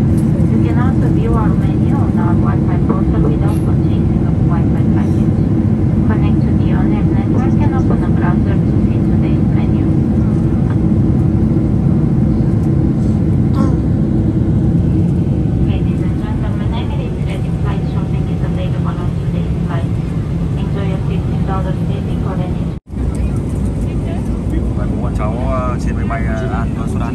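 An airliner cabin in flight carries a loud, steady engine and air roar throughout, with voices talking over it and a brief dropout near the end.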